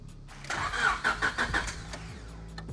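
A Honda DC2 fitted with a Tanabe Hyper Medallion exhaust cranks over and catches, a burst of engine noise swelling and pulsing for about a second before settling into a steady idle.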